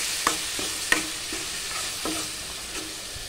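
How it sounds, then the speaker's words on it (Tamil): Onion-tomato paste for mochai kulambu sautéing in oil crackles steadily up close, with several distinct spatula scrapes and knocks against the pan at irregular intervals. "இப்போ ஒரு மூணு நிமிஷம் நல்லா பச்சை வாசனை போகிற அளவுக்கு வதக்கி விட்டுக்கலாம்."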